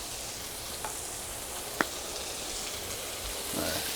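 Shrimp searing on a Solo Stove SteelFire griddle give off a steady, even sizzle and hiss throughout, with one sharp click partway through and a slight swell near the end.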